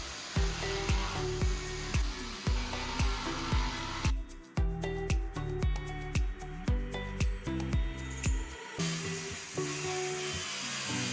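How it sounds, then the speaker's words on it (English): A jigsaw cuts through wood at a house build in a steady run of short, loud buzzing strokes close by, each with a sharp start, and no talking. "I think I have to jigsaw it so that I don't screw this up."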